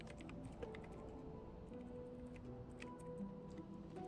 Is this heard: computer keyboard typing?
yes